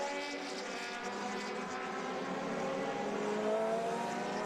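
Vintage Brabham formula race cars at VIR, including a Brabham BT29, drone past with a steady engine tone that slowly rises in pitch, moderately distant and even in loudness.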